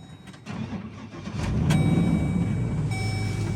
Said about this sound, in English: I can start this truck.